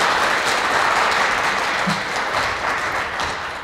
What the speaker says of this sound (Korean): 우리 우당 교육문화재단 조준희 후원회장님께 다시 한번 여러분 큰 격려의 박수 주시기 바랍니다